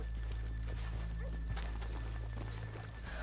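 Hoofbeats from Red Dead Redemption 2 horses clop unevenly over a low steady rumble, with a brief neigh partway through and a faint voice far in the background.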